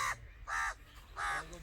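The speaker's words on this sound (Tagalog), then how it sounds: "May uwak pang maingay." A crow caws three times in a steady, evenly spaced rhythm in a Punjab village in Pakistan in the morning, each call harsh and fairly close, with quiet background noise between.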